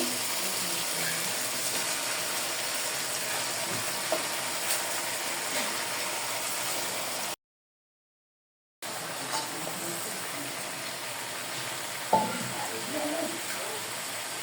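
Spinach greens tossed onto fried onions in a pan give a soft, steady sizzle with light stirring scrapes, fairly quiet throughout, broken by a brief silent gap midway.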